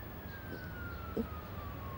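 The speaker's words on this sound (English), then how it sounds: "The ambulance is here now." An ambulance siren sounds faintly in the distance as a single thin, steady tone that slowly slides lower, under a background hiss, with one brief knock partway through.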